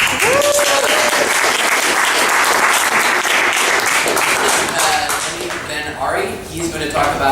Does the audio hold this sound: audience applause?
yes